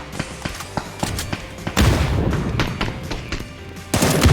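PUBG gunfire on PC with a Beryl rifle: sharp rapid shots in a quick irregular series, then louder heavy bursts that trail into echoing rumble, close and punchy.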